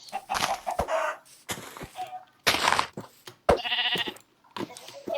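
Several Minecraft sheep bleats come in bursts, close and fairly loud, along with some clucking sounds and brief pauses between calls.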